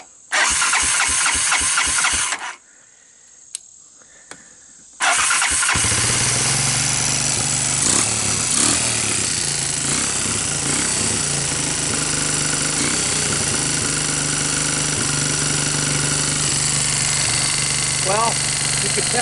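A Honda TRX200SX ATV, pulled from abandonment and running with loose valves, fires briefly and dies, goes quiet, then starts up again and settles into a steady, close, loud idle with a slight rattle.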